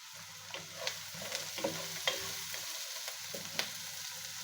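A spicy spice-and-onion mixture for shrimp majboos is stirred in a hot pan, a soft continuous sizzle broken by intermittent scraping clinks of a spoon against the pan, close and quiet with no voices.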